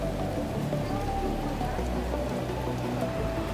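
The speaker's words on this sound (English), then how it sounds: "Unfortunately, it's raining, but let's see how it goes." Rain falls steadily at Iguaçu Falls in Brazil, a dense, continuous hiss of drops spattering on surfaces all around, even in level throughout.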